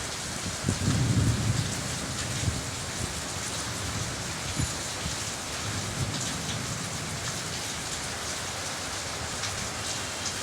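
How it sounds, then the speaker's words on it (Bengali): Heavy rain pours down in a steady, loud hiss during a night thunderstorm, with a deep rumble of thunder rolling in near the start. "প্রচুর বৃষ্টি হইতেছে, আকাশে ডাকতেছে।"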